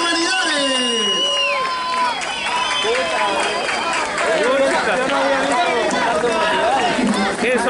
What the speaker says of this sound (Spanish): ¡Fuerte los aplausos a la comparsa de humanidades!